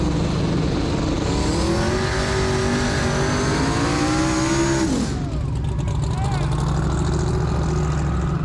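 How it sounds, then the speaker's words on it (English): A car doing a burnout, its engine revving hard with rising and falling pitch over tire noise before dropping off to a lower idle, loud and close. "Pretty impressive burnout to be certain."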